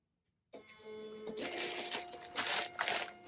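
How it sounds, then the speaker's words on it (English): A printer runs steadily after a brief silence, its mechanical whirring and rapid clattering holding continuous and fairly loud, with a few louder surges near the end and no talking. "we're going pretty good here on the printer"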